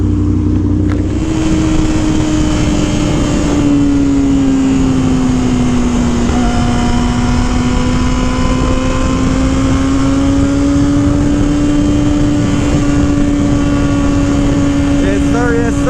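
A Yamaha R7 motorcycle ridden at night drones steadily, its engine tone holding close and loud beneath a constant rush of wind noise.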